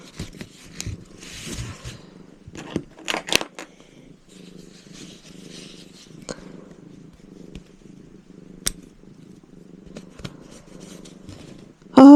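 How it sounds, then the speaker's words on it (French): A domestic cat purrs softly and steadily close by, a low continuous rumble broken by occasional small rustles and clicks in a quiet room. "j'ai arrêté de parler pour écouter les ronronnements de mon chat"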